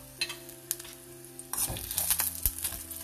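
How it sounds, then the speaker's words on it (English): Garlic, curry leaves and hing fry in hot oil as part of raw mango dal, crackling and sizzling up close, starting quiet with scattered pops and swelling to a busier, louder spitting halfway through. "Fry this garlic properly in the oil."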